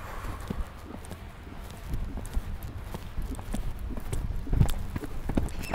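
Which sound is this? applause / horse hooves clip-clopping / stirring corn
horse hooves clip-clopping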